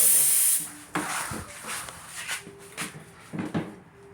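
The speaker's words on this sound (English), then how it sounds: "let's give it a little spray out now" An aerosol can hisses in a short burst while a weed eater is being repaired, then comes quiet handling: light knocks, rubbing and a few brief sprays.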